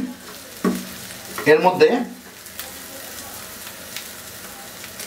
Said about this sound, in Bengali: আমি মাঝারি আছেই ভাজতেছি